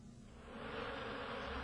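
Honeybees in a hive make a soft, steady droning hum, faint and continuous over a short stretch, swelling slightly after the start, with no voices.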